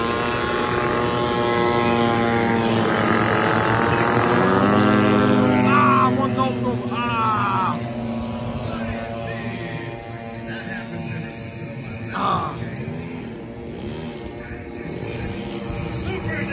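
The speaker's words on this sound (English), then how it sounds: "Eight planes going up in the air, baby." Warbird propeller planes taking off at the Bomber Field 2020 air show, a loud droning engine roar with shifting pitch as aircraft climb away, someone talking over the noise.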